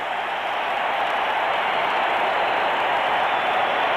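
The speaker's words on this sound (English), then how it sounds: "Listen to this crowd. Woo. They're going bananas." A baseball stadium crowd at a 1984 Mets home game against the Cardinals roars after a Mets base hit, a loud, steady, unbroken wash of cheering that holds for the full stretch with no voice standing out.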